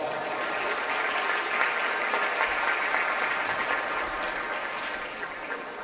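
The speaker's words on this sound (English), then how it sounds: "So give them a round of applause." Spectators in a gym applaud the officials at a 2025 FCIAC girls' freshman all-star basketball game, a thick, continuous wash of clapping that stays loud and steady throughout.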